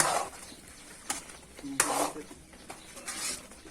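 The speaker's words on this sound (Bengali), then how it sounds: "এই যে নাড়ানো হচ্ছে" A spoon stirs a spice powder, molasses and sugar mixture in a pot, giving soft scraping, swishing strokes with occasional clinks, close and fairly quiet over low room noise.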